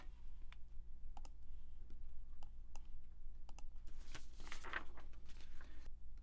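Sparse, faint computer mouse clicks while selecting a tab in a spreadsheet, several isolated taps spaced apart, with a short cluster of clicking about two-thirds of the way through over quiet room hum.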